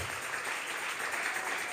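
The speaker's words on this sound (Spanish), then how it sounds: "Vamos a regalarle ofrenda de palmas al Dios de la gloria." Steady applause from a church congregation, dense clapping sustained throughout without pause, moderately distant.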